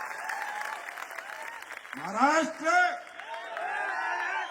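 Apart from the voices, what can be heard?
audience applause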